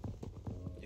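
Donkey hooves clip-clopping in the Minecraft video game, a quick run of about five evenly spaced hollow hoof clops, close and moderately loud, with no talk over them.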